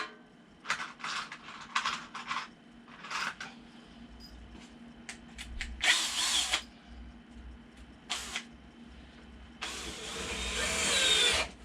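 Power drill driving screws into pilot holes while building a wooden bonsai display backdrop, several short bursts of whirring followed by a few longer, louder runs, close by with no talk.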